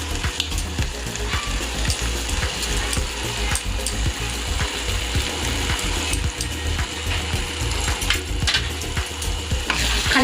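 Chili prawns in a pan as water is added, a close, busy sizzle and bubbling with frequent stirring clicks and scrapes throughout, no talking.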